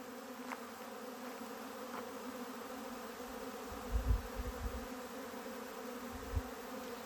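Honey bees swarm around feeders, their steady buzzing droning on as a continuous hum at moderate distance, with a couple of closer, louder passes as individual bees fly near.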